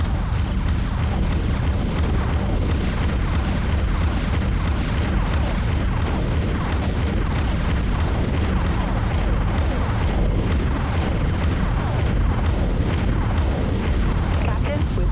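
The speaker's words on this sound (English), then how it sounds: "Launching torpedoes. Broadside blast." Dense, continuous booming from torpedo launches and broadside cannon fire in a spaceship combat game, loud rolling blasts layered without pause under a voice talking.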